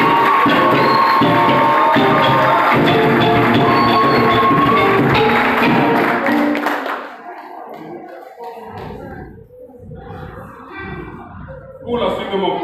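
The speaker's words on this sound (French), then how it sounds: "un tonnerre d'applaudissements à Roger Lucia" Loud sustained applause from a conference audience fills the room, then cuts off and gives way to quieter room sounds and a few scattered noises.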